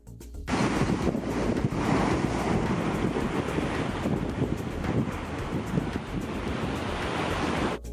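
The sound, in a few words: ocean waves hitting the rocky coast, with wind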